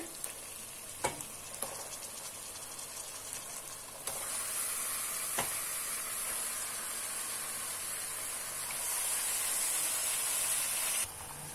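Marinated country chicken goes into a hot pot for biryani, a steady hissing fry with a few sharp clinks of a spoon at the start, the sizzle swelling louder after about four seconds and holding on alone.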